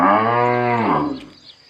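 A single long, deep moo from a cow close by, steady for nearly a second before trailing off into quiet.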